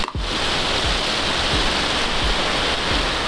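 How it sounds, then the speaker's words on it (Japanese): Heavy rain pours down during a storm with gale warnings: a loud, dense, unbroken hiss of water with low thuds of drops hitting nearby surfaces, steady throughout after a brief start. "お、大雨。"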